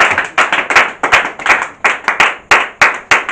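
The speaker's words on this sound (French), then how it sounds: "Let's clap for Jesus." A church congregation claps for Jesus in a brisk, steady rhythm, with loud, close handclaps repeating evenly about three times a second.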